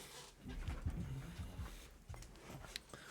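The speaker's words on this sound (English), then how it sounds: "Dog was making some of those noises that you don't want them to make." Close, rhythmic panting from a dog with faint whimpering mixed in, steady and fairly loud throughout, with no talking.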